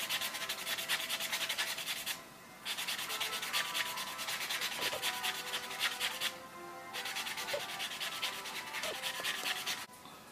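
Dip-powder (SNS) nails being sanded and buffed in a nail salon, a steady dry rasping scrape running continuously with two short pauses, close and fairly loud, with no talking.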